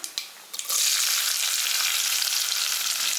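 Loud, steady sizzling of chopped shallots dropped into hot tempering oil, starting with a few crackles and settling into a continuous frying hiss, no talking.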